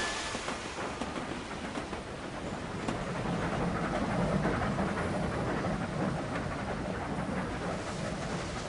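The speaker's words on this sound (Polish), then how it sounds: "Jedziemy pociągiem." A train rolls steadily along in the railway game Sid Meier's Railroads!, a continuous dense rumble with faint rhythmic clatter that swells slightly midway and carries on alone.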